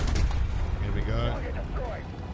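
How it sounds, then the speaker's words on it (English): Heavy boom of a Sherman Firefly's high-velocity cannon in the tank game War Thunder, a deep blast at the start followed by rumbling and faint game chatter, with a voice partly audible. "So the high velocity cannon makes a world of a difference on this Sherman."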